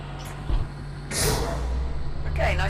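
A tram being released in Lone Echo II, a sudden loud hissing air-release burst followed by a sustained low mechanical rumble over a steady hum, with a voice speaking briefly.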